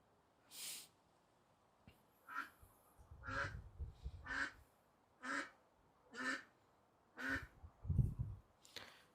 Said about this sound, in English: She's quacking again.